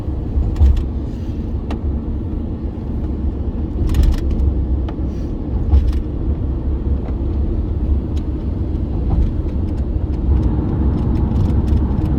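A car drives along a road from the airport toward Cordoba in Spain, its engine and tyre noise a steady close rumble throughout, with faint occasional clicks and rattles inside the cabin.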